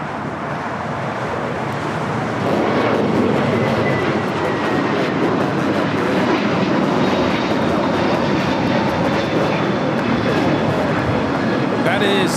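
A Frontier Airbus A321neo jet takes off at LAX, its engine roar a loud, steady broadband rumble that builds early and holds throughout, with faint talk in the background.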